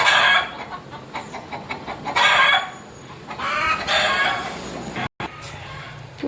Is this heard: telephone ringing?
no